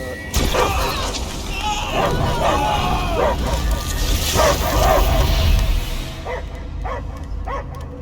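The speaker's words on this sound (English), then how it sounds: "I hear only barking" A dog barks and yips repeatedly in Marvel's Guardians of the Galaxy video game, amid layered game music and effects, with voices talking underneath.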